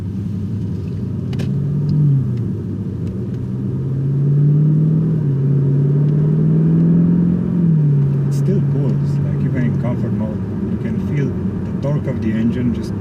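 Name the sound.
Audi S8 engine rumbling at low RPM, exhaust flaps closed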